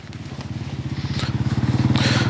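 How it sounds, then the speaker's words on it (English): A motorbike engine putters nearby, its pulsing drone growing louder and closer as it passes. "always a noisy motorbike when you don't want one"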